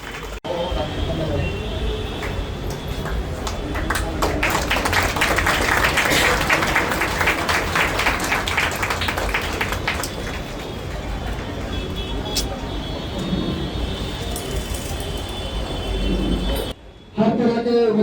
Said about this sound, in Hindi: तालियों के साथ स्वागत है, तालियां रुकनी नहीं चाहिए